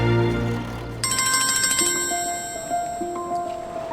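A phone ringtone plays a bright electronic melody of repeated chiming notes, loud and close, with no talk over it.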